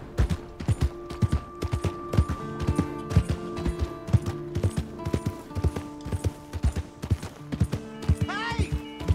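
Steady rhythmic hoofbeats clip-clop at a walking pace in the video game Red Dead Redemption 2, with game music tones underneath and a brief rising whinny near the end.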